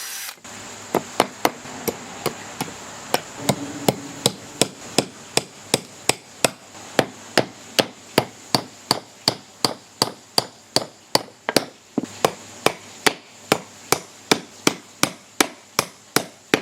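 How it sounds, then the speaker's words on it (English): Nails hammered into wood while building a small deck from a discarded wheelchair ramp: dozens of sharp, close hammer blows in a steady rhythm, speeding up into brisk repeated strikes as each nail is driven home. "I'm just going to drill some pilot holes and put some nails in there."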